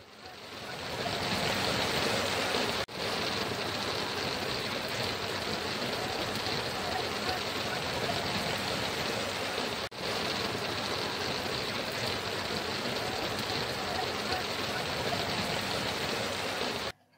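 Heavy rain pounds down across Vaibhavwadi taluka, a dense, unbroken roar of falling water that holds steady and loud for the whole stretch, with no voices.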